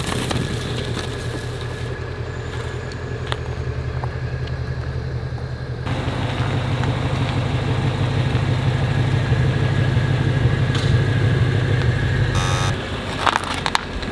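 A low car's engine idles steadily while backing up a steep driveway, a continuous close rumble that thickens partway through as the engine is loaded, with a brief high beeping near the end.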